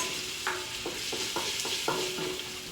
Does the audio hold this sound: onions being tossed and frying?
yes